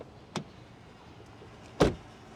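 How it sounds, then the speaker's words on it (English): A Kia Telluride LX door slams shut with one solid, loud thud after a fainter earlier click, close by in a quiet setting. "let's check out the sound of the closing door."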